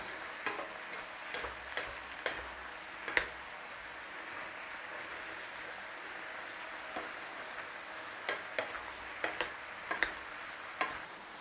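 Mushrooms frying for a beef and mushroom pie in an overflowing pan, a soft steady sizzle with occasional sharp ticks and scrapes of stirring, quiet and with no talking.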